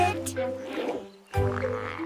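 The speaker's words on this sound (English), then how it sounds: "E is for edible frog." Brief croaking of an edible frog, a couple of short calls set against light background music.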